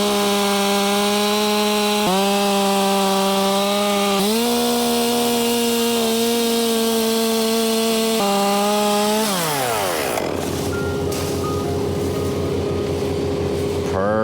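A chainsaw cuts a tree branch during a rigging job high in a tree, its engine droning loud and steady for about ten seconds with pitch shifts, then dropping to a rough idle.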